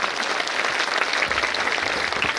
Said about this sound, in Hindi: इन सभी ग्रामवासियों की का जोरदार ताली बजा के स्वागत करें